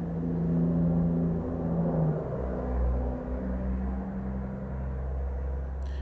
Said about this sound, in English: construction and cars passing by outside.